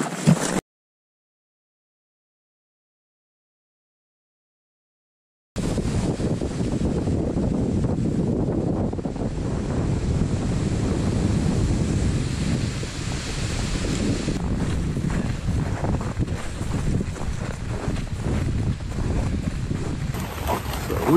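Strong, steady wind buffeting the microphone on a frozen winter mountain trail to Carter Notch Hut, a loud continuous roar with gusty swells after a brief silent gap.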